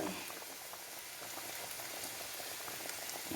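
A covered pot of fish curry with green mango bubbling at a steady rolling boil, a dense, even simmering hiss that continues without pause.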